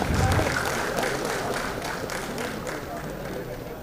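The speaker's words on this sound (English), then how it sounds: "Request a round of applause to keep coming." Dense applause from the audience at a college convocation ceremony, a continuous close patter of many hands, with voices mixed in beneath.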